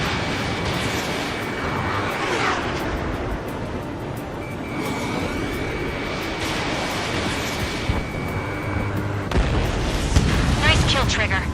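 An enemy aircraft blows apart as it is shot down in the Ace Combat 7 flight game, a loud sustained rumbling blast amid jet roar and whooshing, with radio chatter over it.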